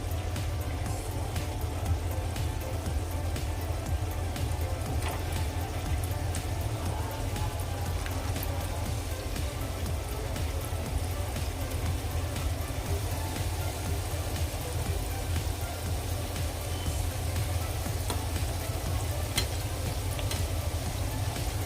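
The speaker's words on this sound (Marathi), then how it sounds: "आता यामध्ये आपण गुलाबजाम फ्राय करून घेऊयात गोल्डन ब्राऊन होईपर्यंत आपल्याला हे फ्राय करायचे आहेत" Bread gulab jamun frying in hot oil, giving a dense, continuous close sizzle and bubbling that holds evenly loud throughout with no talking.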